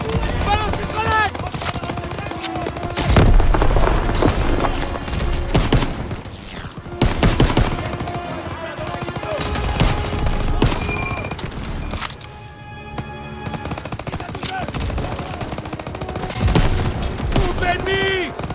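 Dense Call of Duty WWII combat: rapid rifle and machine-gun fire and heavy blasts from grenade explosions come in loud clustered bursts, with a brief lull near the middle, and voices speak over the battle.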